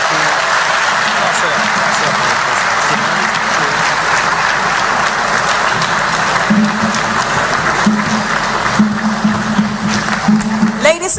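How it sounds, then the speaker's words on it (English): Audience applause at a diaspora town hall meeting in the United Kingdom with Ghana's president, steady crowd clapping throughout with a voice rising over it near the end. "Ladies and gentlemen, a round of applause for His Excellency John Dramani Mahama, President of the Republic of Ghana."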